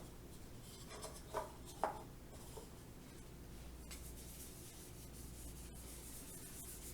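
Fingers rub avocado oil onto a dry paper mask, producing a soft, close, continuous friction texture with a couple of brief louder scuffs early on, then steady quiet rubbing, with no voices.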